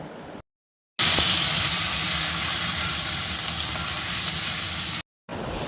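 A loud, steady sizzle as a spoonful each of garlic and ginger fry in oil for chicken biryani, continuous and close, broken by short silent gaps at the start and end, with no talking.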